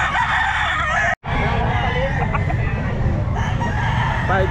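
Chickens cluck and squawk throughout a noisy poultry crowd at a pet market, with a rooster crowing amid the steady din; no clear talk.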